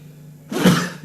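A single sneeze or sharp cough bursts out suddenly after a low steady hum, loud and close, fading with a breathy tail in an air-conditioned room.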